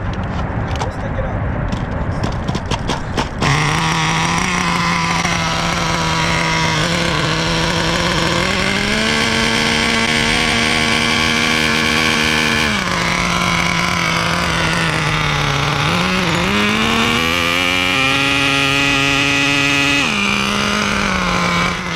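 A small two-stroke engine on a 1/5-scale Rovan Baja 30cc gas or Thunder Tiger Tomahawk nitro RC car runs loud and close, idling and blipping in sustained buzzing pitch shifts that rise and fall for the whole stretch.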